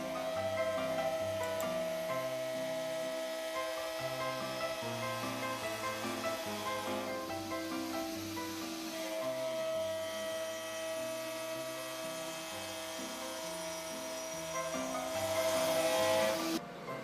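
A CNC machine cuts the top face of wooden stock for a cabriole leg, a steady tonal whine of the spindle over shifting motor hum, continuous and fairly quiet, with no talk.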